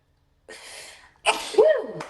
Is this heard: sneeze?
yes